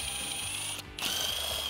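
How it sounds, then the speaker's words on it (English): A hand ratchet with a T20 Torx socket clicks steadily while backing out Torx bolts behind the grille of a Jeep Wrangler JL 3.6L, a close, dry ticking that pauses briefly before resuming. "we need to remove these two Torx bolts with a T20 torque socket or a Torx bit"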